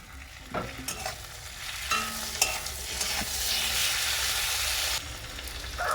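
Chopped tomato and a little ginger frying in a pan while an egg and onion dish is cooked, giving a steady loud sizzle with occasional stirring scrapes and clinks, close up and without talk.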